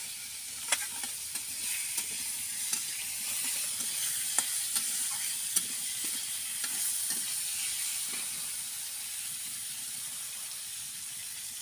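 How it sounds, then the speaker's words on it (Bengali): Potatoes frying in oil with turmeric and salt in a pan give off a steady, quiet sizzle. Sharper crackles and occasional scraping stirs break through it. "তো আমার আলুগুলো দেখেছেন একটু লালচে লালচে হয়ে ভাজা হয়ে এসেছে"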